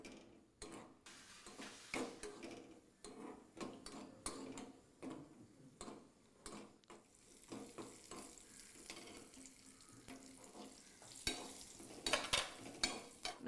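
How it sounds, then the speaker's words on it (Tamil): Cashews and raisins frying for sapota pudding give a faint, steady sizzle broken by scraping stirs and small clinks of the pan, close and quiet. "அதுக்கு வந்து முந்திரியும் திராட்சை பழமும் தாளிக்க போகிறாங்க"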